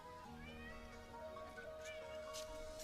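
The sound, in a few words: cat meowing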